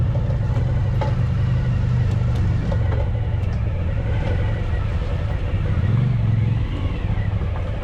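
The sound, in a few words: motorcycles riding by on forest road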